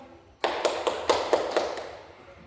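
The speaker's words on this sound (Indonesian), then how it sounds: "Kita beri aplaus kepada teman-temannya yang sudah mempresentasikan hasil diskusi kelompoknya." Brief classroom applause for a presenting group in an elementary school lesson, about six soft, evenly spaced claps, faint and quickly fading with no talking over them.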